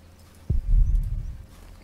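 Pony hooves in a medieval video game clip-clop in a short low burst of steps starting partway through, fairly close, over a quiet ambient background with no speech.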